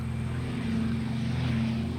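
Droning propeller engines of a C-46 transport aircraft, a steady, even hum with a strong low tone, continuous throughout and without voices.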